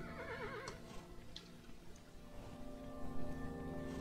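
A horse whinnies in the game Kingdom New Land, a quavering neigh early on over soft hoof clops and ambient tones, faint overall.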